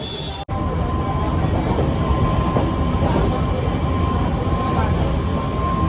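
Steady, loud rumble from inside a moving train, with continuous rolling noise and faint rhythmic clicks of the wheels, a brief dropout near the start, and voices talking faintly underneath.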